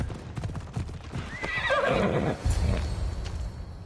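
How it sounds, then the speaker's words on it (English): In a video game, horse hooves clip-clop briefly while a horse lets out a clear whinny, close and fairly loud over a soft background hum. "I need to take this horse to either Adonis or to the stable boy"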